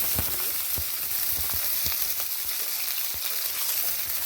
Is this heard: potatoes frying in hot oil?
yes